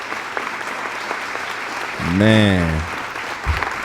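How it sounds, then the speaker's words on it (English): An audience on a podcast set claps in a steady, crackling wash of applause throughout, with a voice briefly rising over it partway through. "Round of applause."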